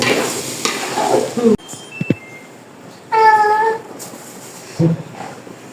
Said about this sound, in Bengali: তাদের জন্য একটু হালকা পাতলা বিরিয়ানি রান্না করা হচ্ছে